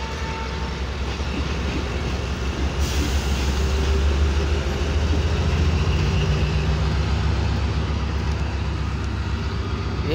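The Allama Iqbal Express, hauled by a ZCU-30 diesel locomotive, departs Drigh Road railway station with a continuous loud diesel rumble and rolling wagon noise, steady and close for the whole stretch.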